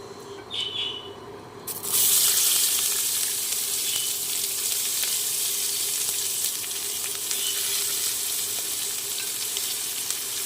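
Chopped onion hits hot oil already tempered with dried red chili, bay leaf and whole cumin, setting off a sudden loud, steady sizzle that holds close and strong to the end, with no voices.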